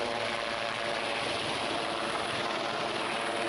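Helicopter at a helipad in Nilanga, Latur, where it took off and crashed; a steady, dense rotor and engine roar fills the whole stretch at constant loudness, with no talk over it.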